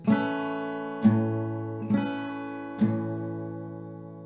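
Acoustic guitar strummed in four downstrokes, alternating bright treble strums with deeper bass strums, each chord ringing out clearly with no voices.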